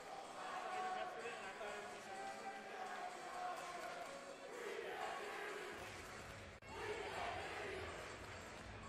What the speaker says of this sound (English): Crowd also starting to get a more involved with this one.